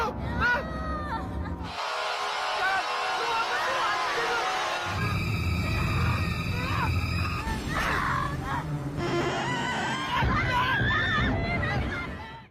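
Horror-film screaming from a victim caught in a psychopath's trap near a waterfall, shrill cries and groans over tense, shifting score and background commotion, fairly loud throughout.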